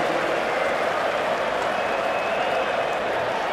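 Cricket crowd at an England international match applauding and cheering a wicket, a dense, steady roar of clapping and voices from a large stadium audience, continuous throughout.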